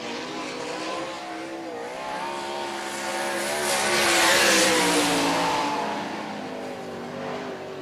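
IRA sprint cars lap Hartford Speedway Park under green, a pack of engines roaring past in one continuous sweep that swells to a loud peak midway and then fades slightly.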